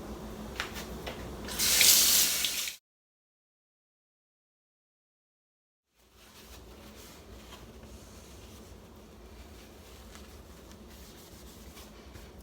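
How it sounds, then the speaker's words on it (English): Hands washed under a running kitchen tap after handling raw egg, water splashing loudly for a few seconds, then a pause of silence, followed by softer running water. "now I'm going to wash my hands"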